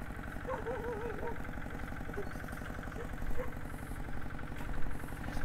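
A generator engine runs steadily to power welding, a close, throbbing low rumble with rhythmic knocking that swells slightly toward the end, while a voice talks over it.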